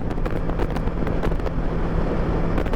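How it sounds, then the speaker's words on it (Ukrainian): Steady roaring wind rush while riding a Voge 525 DSX motorcycle at 110 km/h in sixth gear fills the whole stretch, broadband and constant, with a low rumble beneath and brief gusty buffets. "Зараз більше чую вітер"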